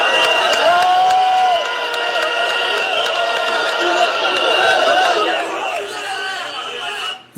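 A large crowd at a political rally in Burkina Faso cheers and claps steadily, a broad roar of voices and applause that fades somewhat toward the end.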